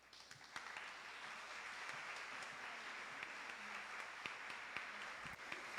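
Applause fills a council chamber during a presentation of women mayors from Veracruz, a continuous patter of many clapping hands with occasional louder single claps, fairly distant and soft.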